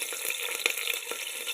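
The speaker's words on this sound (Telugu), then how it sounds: "ఇందులో పోపు దినుసులు వేసుకుందాం." Tempering spices and chillies frying in hot oil in a pan, a soft steady sizzle with small crackles and pops, close and fairly quiet with no voices.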